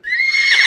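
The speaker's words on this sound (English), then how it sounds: "Horse says nee nee." A farm horse gives one short, loud, close neigh, a bright whinny that rises and grows rougher toward its end, heard on its own.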